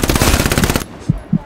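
Automatic gunfire from the World War II shooter Hell Let Loose, a loud, rapid, continuous burst lasting under a second, followed by quieter background and two soft separate thumps.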